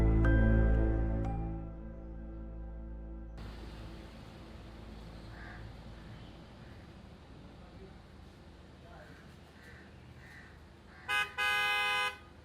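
A car horn honks repeatedly outside a house, a couple of short sharp toots near the end after a long stretch of quiet room tone and fading music.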